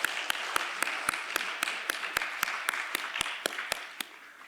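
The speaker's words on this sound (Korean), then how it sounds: "하나님께 영광의 박수를 올려드립니다." A church congregation claps during a Korean Sunday worship service, a crowd's applause with sharp rhythmic unison claps standing out at a steady beat over the softer wash, fading near the end.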